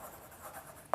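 Chalk or marker scratching across a board during a Class 10 mathematics lesson on polynomials, a faint steady stroke followed by a sharper, louder tap-and-scrape near the end, with no talking.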